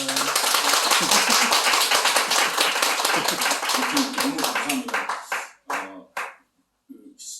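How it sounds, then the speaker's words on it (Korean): A church forum audience claps together in a dense, rapid patter that thins and breaks into a few scattered claps near the end, while a voice speaks over the closing moments. "박수 한번 칩시다"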